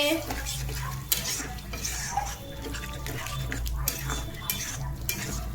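Paneer chilli gravy stirred in a pan: a steady background sizzle with a spoon scraping and knocking against the metal at irregular intervals, no talk.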